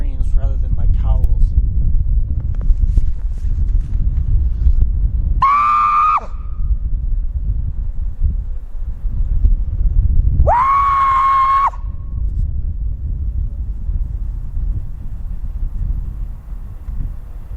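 An aggressive female-Bigfoot scream call played through a speaker in the Montana woods rings out twice, each long and piercing, over constant wind rumble.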